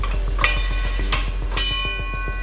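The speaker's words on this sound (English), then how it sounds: "this was a bell from a train station." Three bright metallic strikes of a vintage train station bell ring out about half a second apart, each leaving a sustained shimmering tone over a steady low rumble and rhythmic clatter.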